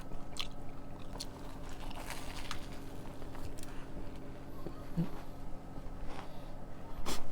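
Biting into and chewing an Isaac Toast sandwich, with soft crunchy bites and wet, squishy mastication close to the microphone, steady throughout without any talk.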